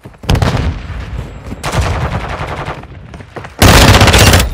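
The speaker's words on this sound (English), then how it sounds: "Taking effective fire!" Rapid automatic gunfire from Call of Duty Modern Warfare 2 multiplayer, loud bursts in three stretches separated by brief gaps, the final burst the most intense.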